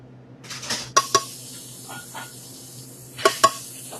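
Garlic and onions with capers hit hot olive oil in a pan, giving a soft sizzle punctuated by sharp clinks of a utensil against the pan in short bursts.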